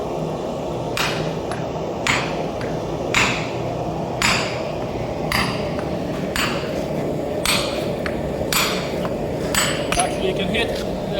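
Hammer blows ring against the edges of a Dane axe head during forging, about a dozen sharp metallic strikes at a steady, unhurried pace, close and clear over a low background murmur.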